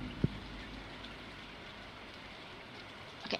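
Steady, soft rain ambience in the farming video game Stardew Valley, an even wash of patter with a small click near the start and a brief flicker of sound at the end; no voices.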